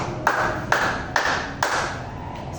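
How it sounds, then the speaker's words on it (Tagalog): A classroom group claps in unison in several sharp, evenly spaced claps about half a second apart, fairly quiet, with a faint room hum between them. "Bigyan natin ito ng 5 palakpak."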